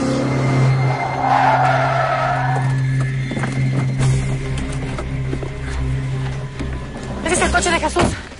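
Car tires skidding on pavement with engine noise, loud and sustained, under dramatic music and voices from a television drama scene.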